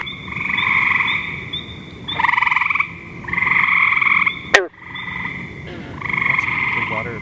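A frog gives repeated croaking calls, air pushed from its torso into the inflated vocal sac and back, in long buzzing bursts separated by brief pauses, loud and close, with one sharp click midway.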